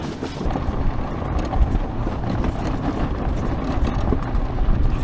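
A homemade electric ATV climbs a steep four-wheel drive track, giving a steady, dense low rumble with rough rattling and wind buffeting that continue close up throughout.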